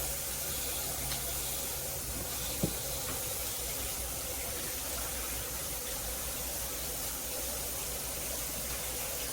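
Tap water runs steadily into a cooking pan in a home kitchen as it is rinsed out after boiling potatoes, a soft continuous hiss at low level with one brief knock partway through.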